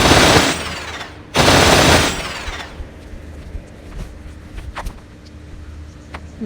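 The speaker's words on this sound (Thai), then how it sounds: "ตอนนี้มันปืนกลใครวะเนี่ย" Rapid machine gun fire in the sandbox video game Melon Playground, two loud sustained bursts at close range, separated by a short pause, then trailing off into scattered faint clicks and impacts.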